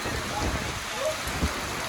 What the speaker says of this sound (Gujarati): આવો વરસાદ તો ચોમાસામાં વરસતો નથી એવો વરસાદ છે